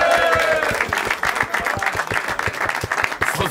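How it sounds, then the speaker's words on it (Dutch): An audience at a carnival song contest claps and cheers for the winners, with sharp, distinct hand claps in a loose rhythm over a bright, singing or cheering crowd, loud and close. "En klappen, dit zijn de winnaars."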